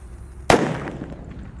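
Purple 'disco happy flower' firecracker going off outdoors as a single sharp, loud bang that decays quickly into a short crackling tail after a quiet lead-in.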